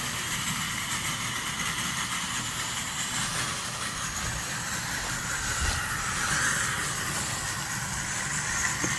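Steady hissing roar of a ground fogger pumping fog through a home-made ice box chiller outdoors, a continuous broadband rush with no pauses, fairly loud and close throughout.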